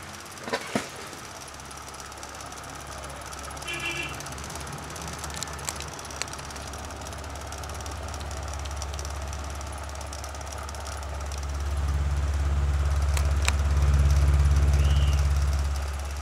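An electric fan with a wobbling, fluttering blade runs as a low, steady motor hum and vibration that swells noticeably louder toward the end, with no talking.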